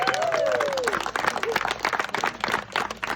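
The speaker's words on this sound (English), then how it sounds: "big round of applause for this alligator right here" A crowd claps and cheers after an alligator wrestling show at the Ah-Tah-Thi-Ki Museum, a steady patter of applause with a whistle near the start.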